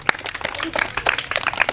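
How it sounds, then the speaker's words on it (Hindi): Children clapping in a village free coaching class in Mangalsi, Ayodhya: a brief, uneven patter of small hands, moderately close, with voices talking over and between the claps. "ताली बजाओ"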